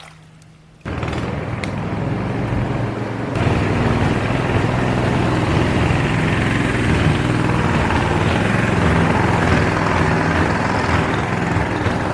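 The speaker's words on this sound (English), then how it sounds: "Your mud motor coming up." A mud motor on a boat on the Alexander Springs river runs steadily and fairly close after starting up, a continuous loud engine drone with a rough, propeller-like churn and no talk.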